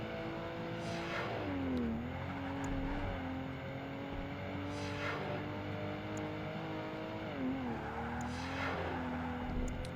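Race car engine in Project Gotham Racing 2 revs and drops through gear changes as the car corners, with faint tire squeal, a steady, fairly quiet game soundtrack with no talking.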